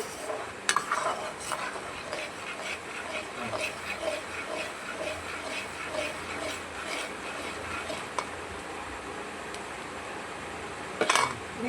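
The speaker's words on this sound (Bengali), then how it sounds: "নাড়িয়ে যেতে হবে বন্ধুরা যাতে একদম উষ্ণ গরম থাকবে" A spoon stirs khoi murki (puffed rice with syrup) in a pan on the stove, soft scraping and clinking at a steady pace with faint sizzling beneath, quiet and close, with a few sharper knocks near the end.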